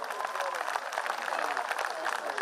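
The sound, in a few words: audience applause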